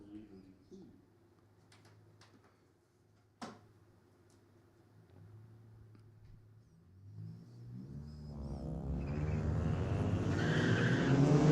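A blue ragtop Mustang at a drag race, its engine building from a low idle rumble to a loud, rising roar as it launches off the line, with an announcer talking over it.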